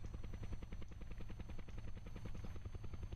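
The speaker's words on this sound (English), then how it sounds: "it still spins the helicopter. However, it lifts straight up now" A helicopter in the video game Kerbal Space Program spins while lifting straight up, its rotor producing a steady, rapid chopping pulse throughout, fairly quiet and with no talking.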